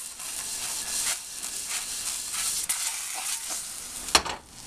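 An egg frying in an Orgreenic frying pan, with a steady close sizzle and hiss throughout and a soft scrape and clatter near the end as the egg is flipped.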